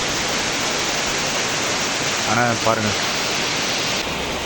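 A Himalayan waterfall beside the Kedarnath trekking path pours in a loud, dense, unbroken rush of water, with a brief spoken phrase over the roar midway.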